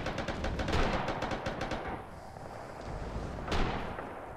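Mortar fire in a war video game: a rapid run of sharp firing reports early on, then a quieter lull and a single loud blast near the end.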